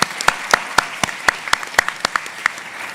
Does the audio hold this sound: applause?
yes